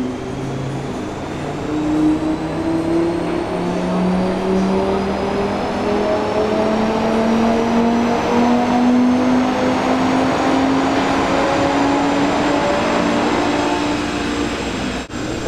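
An Audi RS3 Sportback five-cylinder engine revving on a dyno, a loud, sustained rising engine note climbing steadily through the gears, close and continuous with no talk.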